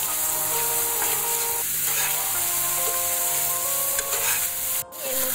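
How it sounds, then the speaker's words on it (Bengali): Turmeric and red chili powder masala frying in a pan, a dense, steady sizzle close up with rubbing, scraping strokes of a spatula throughout and one sharp knock near the end. "এখন খুব ভালোভাবে আমি মশলাটাকে ভালোভাবে ভেজে নিব।"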